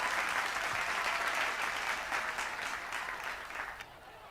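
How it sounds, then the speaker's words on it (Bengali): Audience at a stage programme applauding loudly, a thick continuous burst of clapping that holds steady and then thins slightly toward the end. "সবাই মিলে একটা জোরে জোরে হাততালি হোক।"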